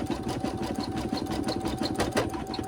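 A sewing machine runs steadily with a fast, continuous mechanical stitching rhythm, close and fairly loud, with a faint whine throughout.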